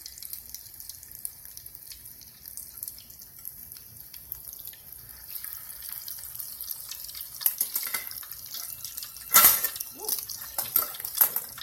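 Salmon cakes frying in oil in a home kitchen, a soft, steady crackle that grows busier in the second half, with a brief louder burst near the end and no talking.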